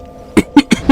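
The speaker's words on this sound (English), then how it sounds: "I really look forward to not coughing anymore" Four short, sharp coughs from a man in quick succession, close and fairly loud, with quiet background between them.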